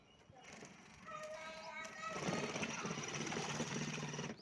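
A small mini motorcycle engine revs up in first gear, a faint buzzing putter that rises in pitch and loudness partway through and holds steady, with light background noise.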